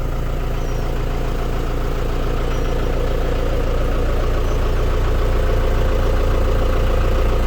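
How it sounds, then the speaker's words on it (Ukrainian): A LOVOL TB-504 mini tractor's diesel engine idles steadily and loudly up close, with a continuous low, knocking chug throughout. "Трактор заведений, кермо вам показую."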